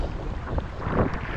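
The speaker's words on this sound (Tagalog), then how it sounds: "biglang lakas yung hangin" Sudden strong wind blowing across a boat during lure fishing with soft bait, a steady close roar of gusting air buffeting the microphone, with no talk.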